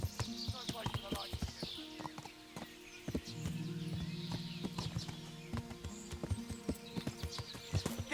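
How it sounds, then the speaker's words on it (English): Horse hooves clip-clop at a steady pace in a medieval-style video game during a night raid on bandits, with a sustained tonal drone and scattered knocks, and voices shouting over the hoofbeats. "Learn how to ride a horse, idiot!"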